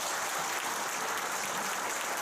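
Audience applause at a 2021 leaders' training workshop, clapping for a lecturer after his talk: dense, steady clapping from a crowd that holds level throughout without a break.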